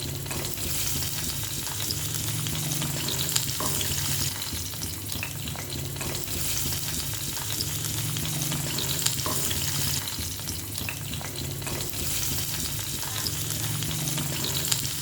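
Country chicken sambar base frying in a pan until brownish, a steady dense sizzle and crackle with occasional stirring, close and continuous, with no voices.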